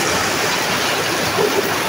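Heavy rain falls continuously, a dense, even rush of hiss and patter that stays loud and unbroken, with no voices.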